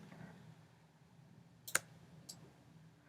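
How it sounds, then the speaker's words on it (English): Two faint, sharp computer mouse clicks come about half a second apart in an otherwise quiet room, with the mouse being dragged between them. "So I'm clicking and dragging while I'm hitting the shift."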